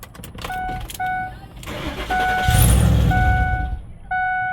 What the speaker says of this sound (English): We're gonna try to start the truck.